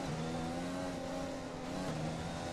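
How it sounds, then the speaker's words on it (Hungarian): An F1 race car in a racing video game, losing engine power, accelerates out of a corner. A loud, continuous engine whine with layered tones holds steady throughout, dipping slightly near the end. "Hát ez nem volt egy egészséges kigyorsítás ebbe a kanyarból"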